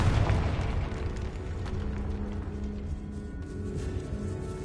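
A Confringo spell explosion in a video game, a loud low boom at the start that decays into a long rumbling tail and fades slowly, heard alone without talk.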